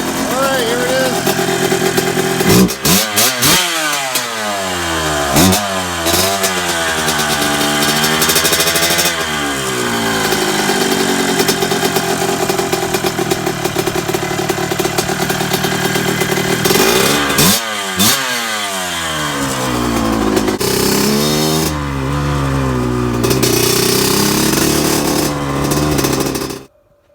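A 1980 Suzuki RM125 two-stroke motorcycle engine runs loud and close for the whole stretch, revving up and down repeatedly with sharp rising and falling pitch between steady idle, then cutting off abruptly at the end.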